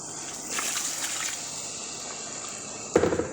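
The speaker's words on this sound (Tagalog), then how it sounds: "Dito, lagyan natin ng tubig." Hot water is poured into a cooking pot of marinated chicken for bhukar rice, a soft splashing trickle near the start followed by a brief sharper splash near the end, faint overall.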